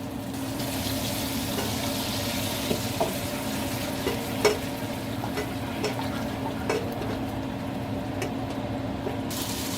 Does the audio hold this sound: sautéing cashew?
yes